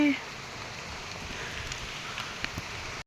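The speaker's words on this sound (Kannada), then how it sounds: "ಶರ್ಟ್ ಮಳೆ ಬೀಳತ್ತದ, ಮಳೆ" Steady rain patters on a surface with a dense, even hiss, a few louder drops standing out near the end.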